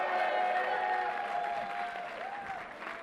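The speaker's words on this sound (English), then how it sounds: "Give her a round of applause." A crowd applauds Governor Kathy Hochul at a rally-style announcement, a steady wash of clapping that fades slightly toward the end, with voices faintly underneath.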